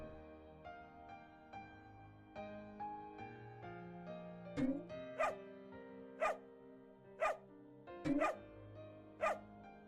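A giant dog barks in the low-poly video game Arrow and Zary, giving about six sharp, loud barks at a fairly steady pace over a sustained musical soundtrack.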